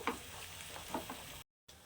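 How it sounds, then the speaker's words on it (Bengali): Spice masala frying in a pan for white chicken korma: a soft, steady sizzle with faint scraping stirs, quiet and close, briefly cutting out near the end. "এবার এই মশলাটাকে আমি সুন্দর করে খুব ভালো করে ভেজে নেবো"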